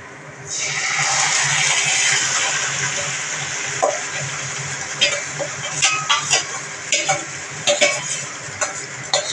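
Taro stolons tossed into a pan of lightly browned onions for a Bengali prawn dish, giving a loud steady sizzle from the start, then a run of sharp spatula scrapes and clinks against the pan toward the end.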